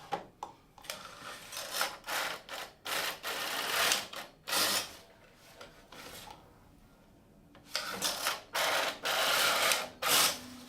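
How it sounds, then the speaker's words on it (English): An intarsia carriage slides back and forth across the needle bed of a Taitexma knitting machine, making repeated rasping, rubbing passes with short pauses between strokes, up close. "The Intarsia carriage pulls the needles in and like knits them manually."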